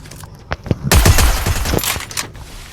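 P9 gun firing in the Free Fire mobile game: a couple of single shots, then a loud, rapid burst of automatic gunfire that rattles on for nearly two seconds before tapering off.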